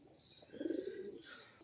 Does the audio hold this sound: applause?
no